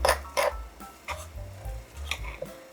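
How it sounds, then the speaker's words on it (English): A spoon stirs collagen peptides into a breakfast drink in a glass, giving several bright clinks and scrapes in an irregular rhythm, close and fairly quiet. "And going to give that a good stir."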